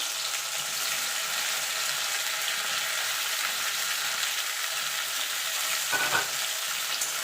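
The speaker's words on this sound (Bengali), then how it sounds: "এবার যে ভেন্ডিটা আমি নুন হলুদ আর বেসন দিয়ে মাখিয়ে রেখেছিলাম সেটা দিয়ে দেবো দিয়ে এটাকে হালকা করে ভেজে নেবো" Okra coated in gram flour, salt and turmeric frying in hot oil, an even, hissing sizzle held at a steady level throughout, with one brief clink near the end and no speech.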